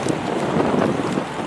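Strong outdoor wind blusters steadily across the microphone in Hong Kong. The buffeting is loud and continuous, and no one speaks.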